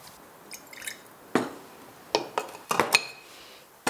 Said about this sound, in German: Ich gebe das in ein Glas, mache ein bisschen Wasser rein.